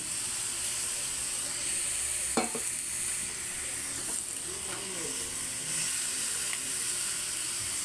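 Pork fries in a pan, rendering out its fat with a loud, hissing sizzle that runs continuously, punctuated by a few clanks and scrapes of stirring.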